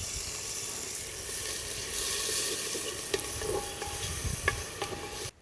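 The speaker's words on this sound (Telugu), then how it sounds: "ఇలా వేగిన తర్వాత 2 చెంచాలు అల్లం వెల్లుల్లి పేస్ట్ వేసుకుందాం" Ginger-garlic paste sizzling in hot oil with browned onions for a raw cashew dum biryani, a steady loud frying hiss with a few soft stirring clinks, no voices.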